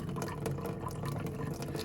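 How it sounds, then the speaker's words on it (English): Water running into a guitar humidifier, a steady close trickle and splash of liquid filling the small container, continuous and moderately loud with no talk. "if you have a better way of filling this with water"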